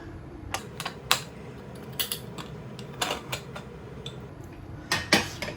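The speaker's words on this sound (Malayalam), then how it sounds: "ഒരു വിസിലിന് ശേഷം കുക്കറിൻ്റെ പ്രഷറൊക്കെ പോയിട്ടുണ്ട് നമുക്ക് തുറന്ന് നോക്കാം" Metal clanks and rattles come as the lid of a pressure cooker holding vegetable biryani is worked open after one whistle, a series of close, sharp knocks spread unevenly over a few seconds.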